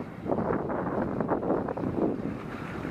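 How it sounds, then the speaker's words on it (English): Strong wind buffeting the microphone at the summit of a four-person ski chair lift, a continuous low roaring rush with gusty swells, fairly loud and with no talk over it. "it gets windy, real windy"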